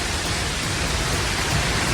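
Heavy monsoon rain in South Delhi roars steadily with a dense, unbroken hiss and no pauses.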